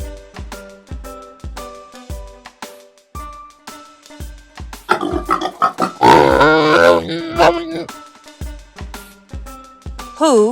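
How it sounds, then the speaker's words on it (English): A pig grunts and oinks in a series of short, snorting bursts over background music, with a louder, busier stretch of rising squeals and grunts in the middle. "It's a pig."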